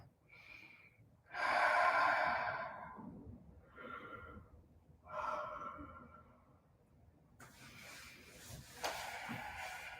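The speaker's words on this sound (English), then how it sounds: "the breath is the consistent. Deep breaths." Deep breaths during a flowing yoga sequence, several long airy inhales and exhales, close and clear, with brief quiet gaps between them.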